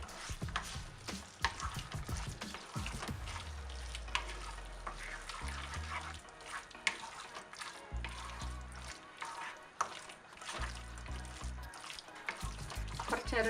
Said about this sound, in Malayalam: കുറച്ച് നേരം 2-3 മിനിറ്റ് ഇതിനകത്തിട്ട് ഇതൊന്ന് വഴറ്റണം